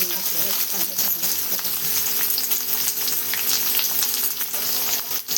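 Onions frying with garlic and cumin in a pan for green tomato chutney, a constant close, crackling sizzle with light stirring taps throughout.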